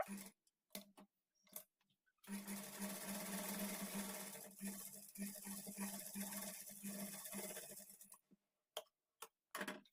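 Lace is being stitched onto a blouse edge by a sewing machine in one steady, quiet run of about six seconds, framed by sharp clicks and taps before and after.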